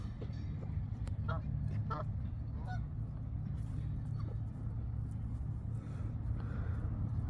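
Geese honk near a lakeside pathway in a few scattered bursts that sound moderately close, set against a constant low outdoor rumble that may include passing traffic.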